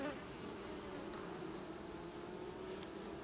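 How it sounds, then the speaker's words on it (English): Bees buzzing around an opened beehive in spring, a faint, steady swarm hum with occasional closer passes of individual insects, no talking. "So there's lots of bees on my phone."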